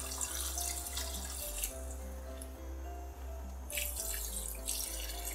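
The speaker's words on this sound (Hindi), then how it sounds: "और इसमें जाएगा पानी 4 ग्लास।" Water poured from a glass into a pot of fried rice and chicken being cooked for Mughlai yakhni pulao, a steady close splashing stream that runs for about five seconds with slight changes in flow.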